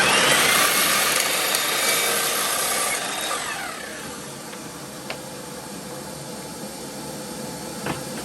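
A miter saw makes a pull cut through wood: a loud whining blade rush for the first few seconds, then spin-down into a quieter hum with a couple of small knocks.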